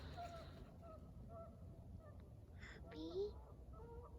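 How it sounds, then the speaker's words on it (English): Geese honking outdoors at a distance, a few faint nasal calls over a steady low rumble, with one brief louder call near the end. "So those are some geese that we're hearing."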